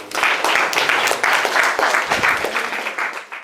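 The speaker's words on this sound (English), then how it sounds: "Clap it up for Jesus." Audience clapping during a real estate talk, a crowd applauding in quick dense bursts that swell and dip, close and loud, with a bit of voice mixed in.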